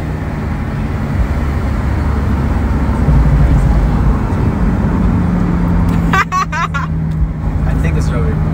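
A car drives along the road, a steady engine and road-noise rumble from inside the cabin, with people talking over it and a brief shift near the end.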